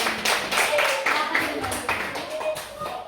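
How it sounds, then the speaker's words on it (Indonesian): Classroom applause for a group performance, a burst of many hands clapping together with children's voices chattering underneath, fairly close and steady for a few seconds. "kasih tepuk tangannya"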